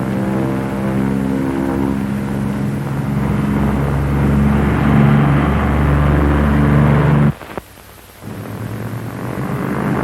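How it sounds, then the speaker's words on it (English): Twin engines of a Lockheed P-38 fighter drone with steady harmonic tones during a takeoff run, then abruptly drop away as the right engine is cut, before the sound builds again. "I'll cut the right engine."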